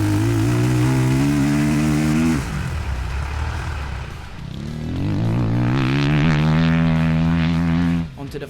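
A powerful dirt bike engine revs hard on a lap of a tight, twisty stubble-field track, its pitch climbing, dropping off briefly and then rising again, loud and close throughout.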